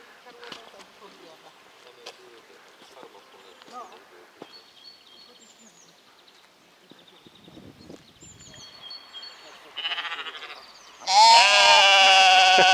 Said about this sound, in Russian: вот кого встретили за электрическим забором, чтобы не разбегались такие барашки